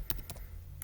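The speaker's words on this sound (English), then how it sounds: "Okay, I gotta type it again." Several quick keystrokes on a computer keyboard, clustered into two or three short bursts, close and fairly faint with a low hum underneath and no talking.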